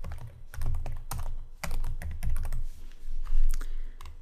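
Rapid typing on a computer keyboard while entering data into a Microsoft Access 2010 database form, a close, steady run of irregular key clicks with no one talking.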